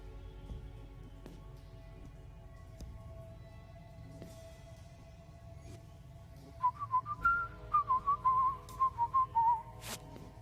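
In the video game Truberbrook, after a quiet stretch with a low hum, someone whistles a short run of bright notes twice, rising and falling, then stops.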